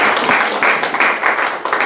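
Church congregation applauding during a worship service, a steady dense wash of many hands clapping at close range, with pulsing surges throughout and no clear speech over it.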